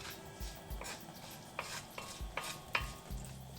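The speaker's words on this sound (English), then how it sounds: "And the curry leaves. And we'll saute these for a few seconds." Curry leaves sautéing in a pan of hot oil with hing for dal dhokli, giving a soft steady sizzle with a few clicks and scrapes of a stirring utensil against the pan.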